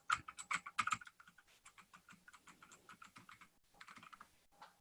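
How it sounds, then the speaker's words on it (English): Someone types a password on a computer keyboard, a close run of crisp, evenly spaced key clicks with a denser flurry at the start and short pauses between groups. "I typed the password right?"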